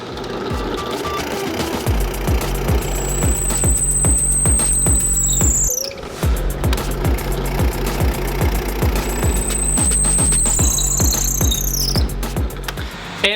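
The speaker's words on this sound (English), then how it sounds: "I'm going to drill a 5/16 inch hole, one on each side" A power drill bores 5/16 inch holes through wooden boards for a go-kart, running in rapid rattling bursts with a high whine rising and falling twice, split by a short pause midway.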